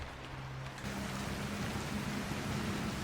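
Rain falls steadily in the video game Scrap Mechanic, a constant broadband hiss of moderate loudness with a faint low tonal hum running underneath and no distinct individual drops.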